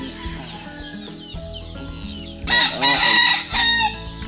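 Chickens cluck steadily nearby while a rooster crows loudly partway through, its call rising and falling over the flock.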